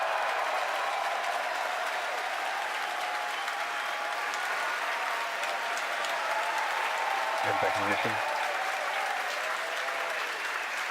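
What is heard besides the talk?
crowd cheering during Falcon Heavy launch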